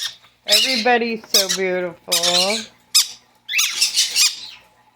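A pet baby bird squawks loudly and repeatedly at close range in shrill, warbling bursts, mixed with a person speaking.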